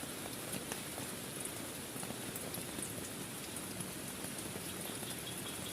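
Steady rain patters on a tent or tarp at a riverside campsite, a dense, even hiss of drops with occasional sharper taps, continuous and close with no voices.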